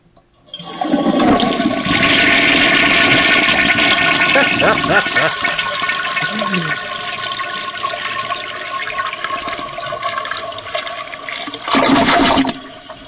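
A loud, forceful toilet flush roars and gurgles for several seconds, then settles into a steadier rush of the tank refilling, with a brief surge of water near the end.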